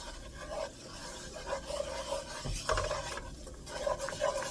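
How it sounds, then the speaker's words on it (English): A spoon scrapes and rubs around a pan while an Alfredo sauce base is stirred constantly, giving soft, continuous rasping strokes that swell and fade, close and fairly quiet. "We're going to stir it constantly"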